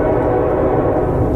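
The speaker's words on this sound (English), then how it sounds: "Sounds like a train coming." A train rumbles in a tunnel as a loud, dense, continuous roar with a low droning hum, heavy and close throughout with no break.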